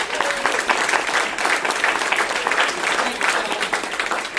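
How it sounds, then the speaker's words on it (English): An audience at a live storytelling show claps in a full, continuous burst of applause that stays loud and even throughout. "One more round of applause for Paul, please."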